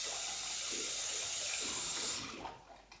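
Tap water runs in a steady, close hiss while a face is rinsed during a skincare routine, then the flow stops and a few soft splashes and drips follow.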